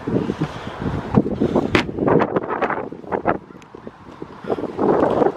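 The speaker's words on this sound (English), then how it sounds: "it's nice and windy out" Wind blows outdoors beside a house, gusting against the microphone in a rough rumbling wash, with scattered rustles and knocks breaking through the buffeting.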